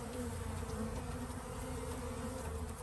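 Honey bees buzzing steadily inside a hive of a starving colony, a dense continuous drone close by with no voices.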